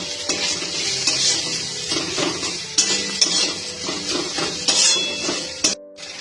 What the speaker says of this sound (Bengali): আমি এখন এই মশলাটা এখানে দিয়ে দেব, দিয়ে আবার একটু নাড়িয়ে নেব।